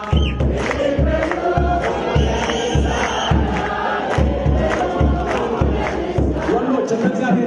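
A church congregation ululates in praise, a loud, sustained high trilling chorus over steady rhythmic low pulses throughout.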